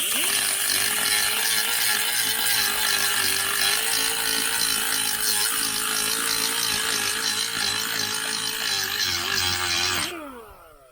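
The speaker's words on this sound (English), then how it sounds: "so I got a little air die grinder with a wheel on it" Air die grinder fitted with a small abrasive wheel grinding rust off the bed of a 1978 Chevrolet El Camino SS, a steady high whine running loud and close for about ten seconds before spinning down, no talk.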